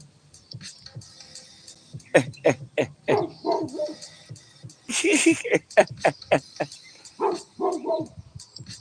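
A dog barks in a string of sharp, close barks and yips, bursting in clusters, with someone talking between them.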